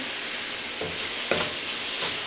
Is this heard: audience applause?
no